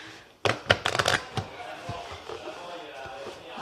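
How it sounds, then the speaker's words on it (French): A deck of playing cards gets shuffled by hand for a magic trick, giving a quick cluster of riffling, slapping bursts near the start that trail off into quieter handling noises. "Donc, il va mélanger les cartes."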